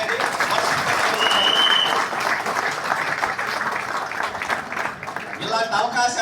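An audience at a business gathering breaks into sustained, dense applause that carries on throughout, with a voice talking over it.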